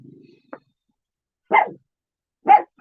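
A dog barks nearby, a short yip followed by two loud separate barks about a second apart, after a brief bit of low voice.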